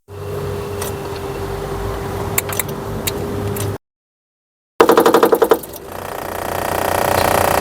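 A Mercedes C350e plug-in hybrid's air suspension compressor pump, wired direct, runs with a low labored drone, then after a pause kicks in with a rapid burst of rattling pulses before settling into a slow, steady whir.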